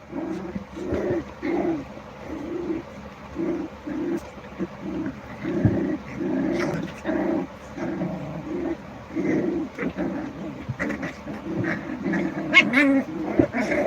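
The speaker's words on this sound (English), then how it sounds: "Live broadcasted puppy fights." Several puppies bark, yip and whimper as they play-fight, with short rapid bursts of barking repeating close by throughout.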